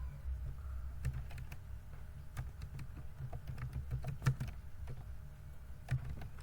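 Steady typing on a computer keyboard while entering text into an Excel spreadsheet, a rapid run of light key clicks with a few louder taps, close and alone.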